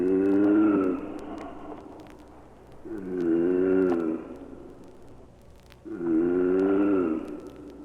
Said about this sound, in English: or the throat of a 400-year-old tortoise calling its mate